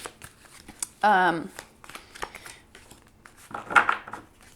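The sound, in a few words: tarot cards being shuffled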